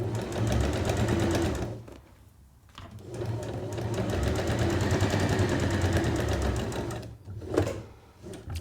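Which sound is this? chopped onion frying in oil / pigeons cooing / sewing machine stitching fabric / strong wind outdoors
sewing machine stitching fabric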